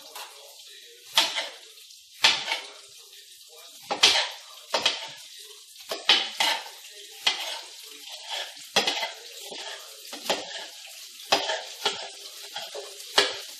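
Bell peppers browning in a frying pan over low heat, a soft steady sizzle broken by repeated sharp scrapes and clinks of a utensil stirring against the pan, close up with no talking.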